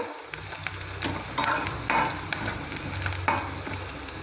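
Onions frying in a pan until reddish brown, giving a steady close sizzle with occasional stirring scrapes over about four seconds, no voices.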